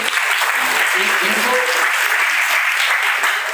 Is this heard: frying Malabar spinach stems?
no